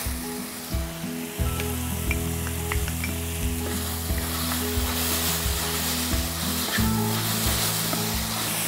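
Onion and garlic sizzling with chanterelle mushrooms in olive oil in a pan: loud continuous close frying hiss with a soft repeating low hum behind it, no talking.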